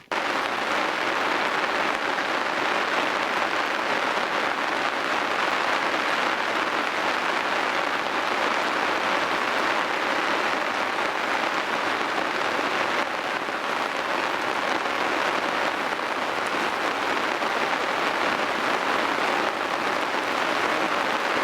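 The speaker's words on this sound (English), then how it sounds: "Absolutely hammering down with rain." Heavy rain pouring down steadily, a dense, loud hiss of drops hitting surfaces with no letup.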